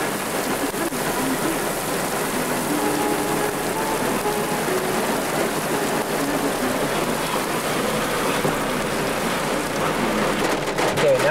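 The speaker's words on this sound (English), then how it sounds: "you can hear it, rain has really come down" Heavy rain pours down in Irwindale near Duarte, Southern California, during a November storm: a dense, steady hiss of rainfall with no break, loud and continuous throughout.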